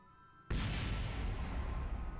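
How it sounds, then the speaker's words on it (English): Explosion destroying a piece of space debris in a video game: a sudden loud boom after a quiet moment, followed by a sustained roaring rumble that fills the rest of the moment. "Got 10 seconds to get out of the area of explosion."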